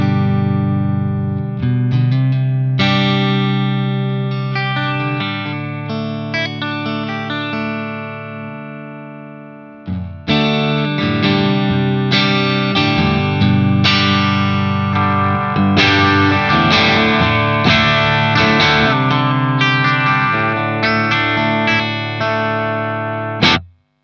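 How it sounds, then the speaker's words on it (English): Clean electric guitar in a blackface-style tone, played through a Two Notes Torpedo C.A.B. M preset: ringing chords and single notes sustain clearly, with a brief pause partway before the strumming resumes fuller and busier. "So a really cool kind of a blackface style clean sound"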